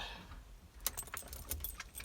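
Car keys jangle in the ignition of a 1993-1997 Ford F-150 with an ignition switch problem, a quick burst of small metallic clinks and rattles over a low engine rumble, close and fairly quiet.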